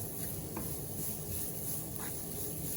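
A spoon stirring beetroot fry in a pan: soft scraping and a steady low sizzle, close and fairly quiet, with no talking.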